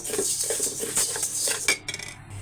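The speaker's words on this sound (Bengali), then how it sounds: "দেখুন বারবার নাড়া দিচ্ছি যাতে লেগে না যায়" Washed rice is stirred in a hot pan, with busy close scraping and metallic clinks of a spoon against the pan over a faint sizzle, heard briefly with no talk.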